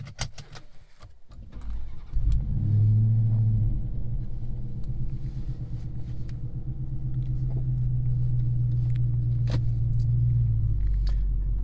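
A Dodge Charger Hellcat Redeye is started after a few clicks and key jangles, then settles into a deep, loud, steady rumbling idle that swells slightly and continues without pause, with no talk.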